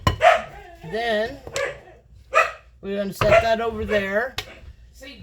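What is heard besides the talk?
dogs barking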